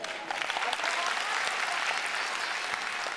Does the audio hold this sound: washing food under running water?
no